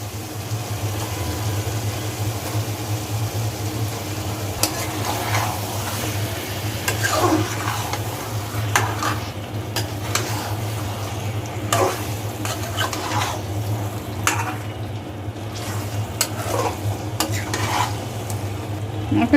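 Chicken pieces frying in a creamy spiced masala for a coconut-milk chicken korma, stirred steadily with scraping clicks over a constant low hum and sizzle.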